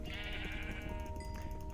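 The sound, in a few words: sheep bleating in Minecraft video game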